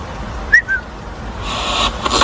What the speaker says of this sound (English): Had the whistle again.